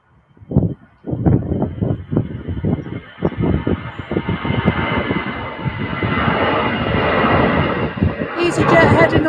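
An EasyJet airliner takes off at Manchester Airport, its jet engine roar building steadily from a distance into a loud, sustained rumble, mixed with gusty wind buffeting the microphone and someone talking.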